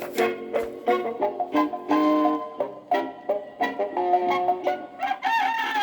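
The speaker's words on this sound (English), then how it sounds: "they heard a rooster crowing loudly" A rooster crows loudly and repeatedly, the calls rising and stretching out in close succession with no talking.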